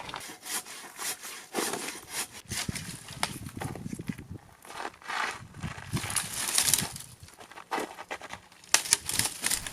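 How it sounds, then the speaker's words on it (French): A saw cuts through an obstacle blocking a rough track in front of a van, with repeated rasping back-and-forth strokes, close and steady, and no talk. "Va falloir la scie. On va le scier pour le virer"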